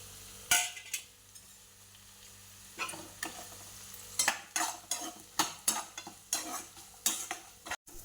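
Onion tempering fries in oil while a spoon stirs it, with a continuous sizzle broken by repeated sharp scrapes and clinks against the pan that come in an uneven rhythm and grow busier toward the end, close and without speech.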